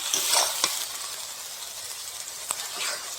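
Spiced masala frying in oil for a Holi meal: a soft, continuous sizzle broken by a few sharp scraping stirs, fairly quiet and close, with no talking.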